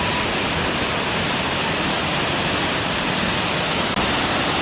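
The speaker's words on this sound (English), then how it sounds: "Whoa, that's a big waterfall." A big waterfall at Mount Rainier roars as a dense, steady, unbroken wash of rushing water, loud and close, with no voices over it.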